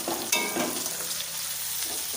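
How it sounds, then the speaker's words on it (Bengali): Capsicum frying in a pan during a rooftop picnic cooking session, a loud close sizzle with a sharp stirring scrape near the start, no one speaking. "এই দেখো এখানে ক্যাপসিকাম ভাজা হচ্ছে"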